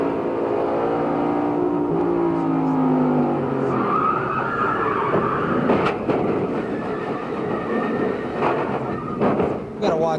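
NASCAR Winston Cup stock cars race at Dover Downs in 1995, their engines droning loudly and shifting in pitch as they pass, with sharp bangs and clatter late on and voices talking over the noise.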